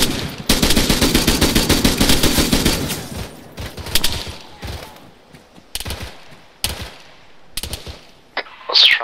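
Heavy gunfire in the video game ARMA 3, a long rapid burst of automatic fire that breaks into scattered single shots and short bursts, loud and close, trailing into sparse cracks with gaps of quiet between them.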